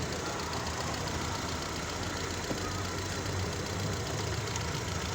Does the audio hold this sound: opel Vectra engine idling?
yes